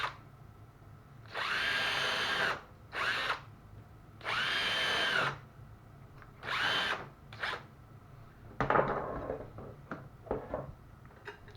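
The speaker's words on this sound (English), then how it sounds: "there are two holes here where you can drill to mount your hardware" A power drill with a Kreg hinge jig whirs in several short bursts into a wooden cabinet door, pausing between each, followed by clattering and handling noises nearby.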